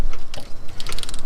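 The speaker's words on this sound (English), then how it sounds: "I'm torquing it up to 33 foot-pounds." Torque wrench clicking and ratcheting as a steering bolt on a 2019 Chevy 2500 is tightened, with a short burst of close mechanical clicks and taps.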